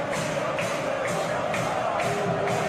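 Stadium crowd in the PES 2021 football game during a simulated Inter versus Arsenal Champions League match, a loud continuous roar with rhythmic swells of chanting roughly every half second.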